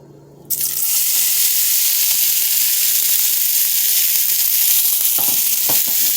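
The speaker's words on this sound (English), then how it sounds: "Now this is a bowl of all my veggies. I already prepped and got it going to put in my oil." Portobello mushrooms, red pepper, kale and red onion hit hot oil with a sudden loud sizzle that keeps hissing steadily, with a couple of faint clinks near the end and no talk.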